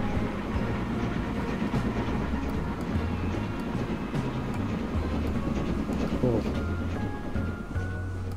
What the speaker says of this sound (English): we're being caught up by a passenger train